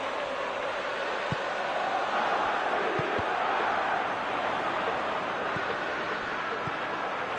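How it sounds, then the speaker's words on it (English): Video game football stadium crowd cheers and murmurs as a steady wash of noise, broad and fairly loud, with faint thuds. "at least the crowd are appreciative of his efforts"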